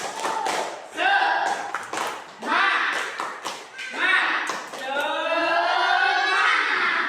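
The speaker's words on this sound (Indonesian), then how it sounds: "Tepuk semangat" A school class in Indonesia performs a rhythmic spirit clap. Bursts of sharp claps come in patterned groups while the children chant loudly in unison between them.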